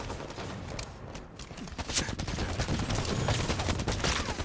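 Rapid gunfire from the video game Halo 5 in free-for-all play comes as a dense, continuous burst of shots with sharp peaks.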